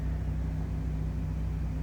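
An overheating Mazda RX-7 engine idles roughly at the Nürburgring, producing a low, steady droning hum with a faint uneven pulsing, close and continuous for under two seconds.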